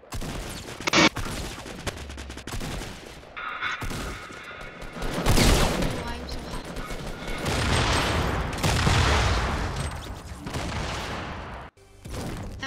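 SMG gunfire in a video game crackles in rapid bursts and fusillades, mixed with crashes and booms, loud and close throughout.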